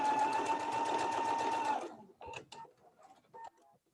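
A sewing machine hums in a fast, steady run while stitching fabric pieces for a tulip block pillow, then stops abruptly, leaving scattered clicks and light handling of the cloth and machine.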